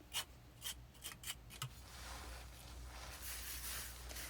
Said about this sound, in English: Trowel it in straight lines.